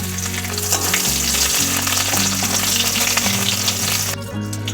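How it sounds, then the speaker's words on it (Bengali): Two bay leaves and chopped green chilies fry in hot oil in a kadai, giving a loud, close, continuous sizzle with no talking. "কড়াতে আমি এবার দুটো তেজপাতা দিয়ে দিলাম লঙ্কা কুচিগুলো দিয়ে দিলাম"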